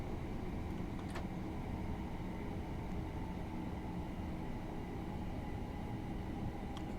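A Thameslink Class 387 Electrostar electric train runs along the Chatham Main Line in Train Simulator Classic, a steady loud rumble of wheels and motor with a continuous hum and no pauses.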